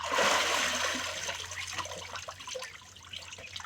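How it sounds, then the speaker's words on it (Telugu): Water surges and splashes loudly during a baptism immersion, then settles into softer dripping and trickling as it fades over a few seconds. "యేసు క్రీస్తు నామములో ఇతనికి నేను బాప్తీసం ఇస్తున్నాను"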